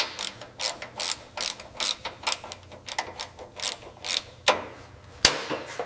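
A hose clamp is tightened on a 1960s Mini Cooper S. A steady run of quick ratcheting clicks repeats in bursts, close and fairly loud, ending in a couple of sharper metallic knocks.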